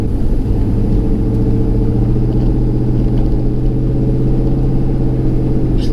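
A 1998–2002 F-body car fitted with a 3600 stall torque converter and a 14,000 BTU transmission cooler, cruising in regular driving with a steady, loud low engine rumble and road drone throughout, no talking.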